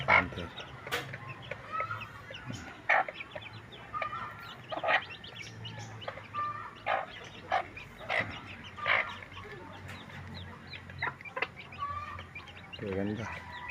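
Newly hatched native labuyo chicks and adult chickens in a rural yard: clucks and chirps come in short, repeated bursts at close to moderate distance, with a low background rumble.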